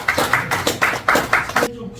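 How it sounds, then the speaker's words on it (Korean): An audience claps at a church worship service. The claps are fairly close and fall in a steady, rhythmic pattern, and the clapping stops abruptly near the end. "박수해 주세요."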